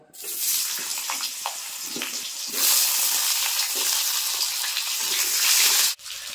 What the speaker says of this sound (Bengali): কড়াইয়ের ভিতর কিন্তু আমি আরেকটু তেল দিয়ে দিয়েছি,